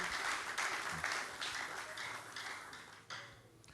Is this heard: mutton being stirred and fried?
no